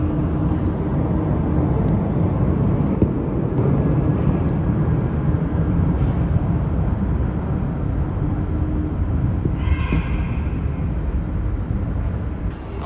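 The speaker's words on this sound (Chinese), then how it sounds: "结果我刚刚看到我们的飞机降落了" A steady, loud low roar from an airliner taxiing after landing at Beijing Capital International Airport, heard from a distance and continuous for the whole stretch, with no voices.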